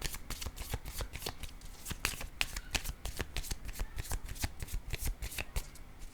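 Tarot cards shuffled continuously by hand, a rapid run of crisp riffling and flicking taps close up at a soft level, with no voices.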